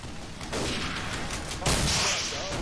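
Gunfire in a war game as a US cavalry division assaults a town, repeated loud cracks and booms layered over battle noise, with voices shouting nearby.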